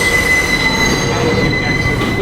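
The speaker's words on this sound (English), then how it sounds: "There is a Downtown Express train approaching the station." An R142 Downtown Express subway train arrives at 14th Street–Union Square station, its wheels squealing loudly and steadily against the rails close by, with a continuous rumbling roar underneath.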